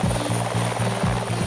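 A police helicopter flies overhead, its rotor beating in a fast, even chop with a high whine riding above it. The sound is loud and steady throughout, and no voices are heard.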